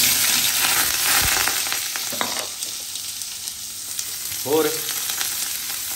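Onions sizzle and fry in a hot pan for a noodle dish, a steady broadband crackle with occasional stirring clatter, close and loud, and a brief voice near the end.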